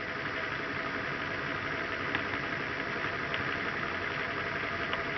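A Bedini SSG magnet motor spins steadily with an even, continuous whirring hum and faint regular ticks, close and constant throughout.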